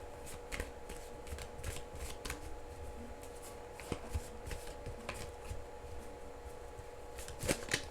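Tarot cards are shuffled continuously, a steady riffling patter with sharp snaps now and then, close and fairly quiet, without voices.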